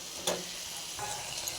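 Spice paste sautés in a pan with a soft continuous sizzle and a brief stirring scrape near the start, fairly quiet.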